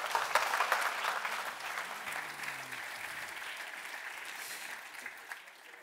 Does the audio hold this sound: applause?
yes